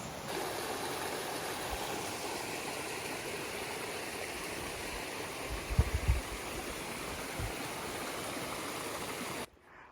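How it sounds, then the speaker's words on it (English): Running water from small waterfalls in a stream rushes steadily nearby, with a few low thumps and splashes partway through before the sound cuts off. "there's like little waterfalls right there and little pools in the trees"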